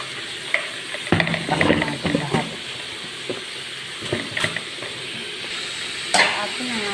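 Cabbage is stir-fried in a pan for pancit, with soft sizzling under scattered scrapes and clanks of a spatula and occasional quiet murmurs.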